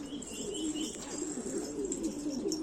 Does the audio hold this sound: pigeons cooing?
yes